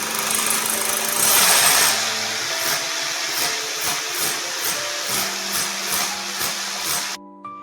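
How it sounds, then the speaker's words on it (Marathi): Loud whine of a power drill boring a hole with a 14 mm bit into a wall for a fastener, a continuous motor drone that surges early on, then steadies with repeated pulsing bursts before cutting off near the end. "इथे आपण 14 mm च्या बीटने आधी होल करू"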